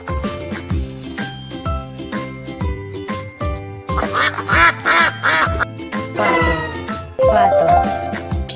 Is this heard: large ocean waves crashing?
no